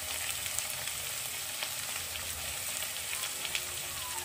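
Spices and gram flour fry together in a pan for a homemade palak chicken, with a continuous soft hiss and scattered small pops and crackles, fairly quiet and even, with no talking.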